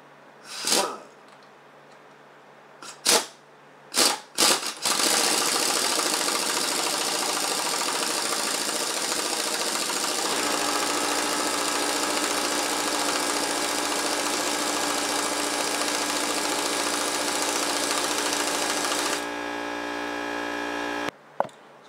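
An air impact gun hammers at a three-jaw puller on the crankshaft of a Chevy Cavalier 2.2L, with a few short bursts and then a long, loud, continuous rattling run that stops abruptly.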